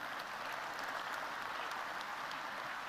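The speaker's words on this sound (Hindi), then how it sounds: "इस पे भी जोर से ताली बजा।" Loud, dense applause from a large audience at an investment event in Madhya Pradesh, steady and sustained throughout with no talking over it.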